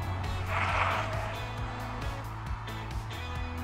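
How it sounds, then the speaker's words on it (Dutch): A Mercedes-Benz car runs off the road onto the roadside verge at 80 km/h, giving a steady loud rumble of engine and tires with a rougher burst of gravel and grass noise early on, then continuous road roar. "We rijden nu met 80 km per uur de berm in en sturen hem er gelijk uit."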